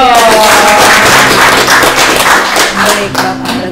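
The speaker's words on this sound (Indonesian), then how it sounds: "Wah, tepuk tangan dulu dong." A live audience at an Indonesian talk show on the TNI bill gives sustained, dense applause, loud and close, continuing for several seconds before thinning slightly at the end.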